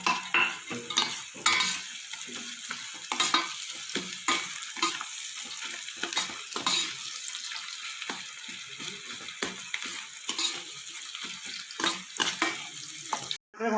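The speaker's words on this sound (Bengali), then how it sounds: "পেঁয়াজটার সাথে আর দশটা কাজু ভেজে নেব ভাজা" Onion and about ten cashews sizzle in hot oil in a pan, stirred constantly with a utensil so scraping clinks punctuate the frying, close up with no talking throughout.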